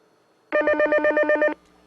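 A telephone rings in one continuous electronic trill lasting about a second, loud and close, with rapid warbling pulses and no talk over it.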